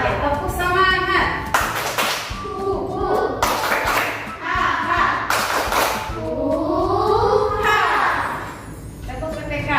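During a class lesson, a group claps in sharp rhythmic bursts while chanting together in unison, a spirited call-and-response clapping chant with voices rising and falling between claps.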